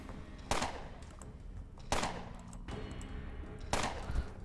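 Gunfire in the video game Underrail sounds as three sharp single shots spaced more than a second apart, each with a short decaying tail over a low steady background.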